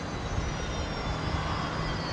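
Boeing 737 jet at Brisbane International Airport, a continuous broadband engine roar held steady and fairly loud across the whole stretch, with no voices.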